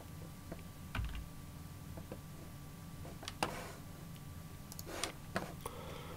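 Quiet, close keyboard typing on a computer during a network lab setup, with scattered individual key clicks and a few firmer strokes over a faint room hum, no voices.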